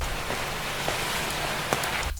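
Steady rain hisses throughout, dense and close, with a few louder drops tapping sharply on a nearby surface.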